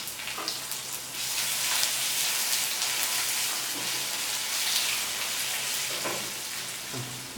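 White cumin, nigella seeds and crushed garlic go into hot oil for kolai dal with radish, giving a soft, continuous sizzle and crackle with a few light stirs and taps, fairly close and without talk.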